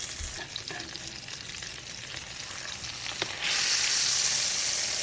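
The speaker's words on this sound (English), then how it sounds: "I'll put some more butter in the pan." Butter sizzling in a hot frying pan with steak, a steady close hiss that swells sharply louder near the end as more butter melts in, no talk.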